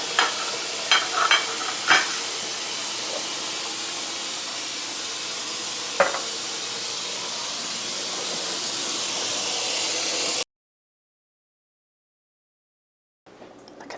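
Pork chops deep frying in hot oil give a steady bright sizzle and hiss, with a few sharp pops and spits, before cutting to near silence and then returning faintly at the end.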